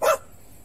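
A single short, loud bark from a dog inside a car, one sharp burst followed by quiet background.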